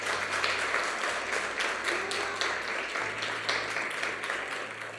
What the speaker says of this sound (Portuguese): Quem pode aplaudir o Senhor de novo?